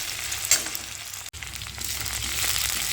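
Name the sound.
ginger frying and being stirred in a pan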